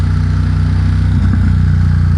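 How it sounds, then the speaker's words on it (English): A 2021 Ducati XDiavel Dark fitted with a Vandemon exhaust and dB killers rumbles loud and close in a steady, throbbing drone, with a slight surge near the middle, and no voices. "the bike's so freaking loud that it starts to hurt your ears after a while"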